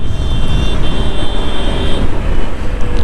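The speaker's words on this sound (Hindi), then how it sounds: "बहुत ट्रैफिक है भाई" Heavy road traffic in Newtown near Biswa Bangla Sarani, a loud, steady roar of passing engines and tyres with a faint higher whine above, continuous and close.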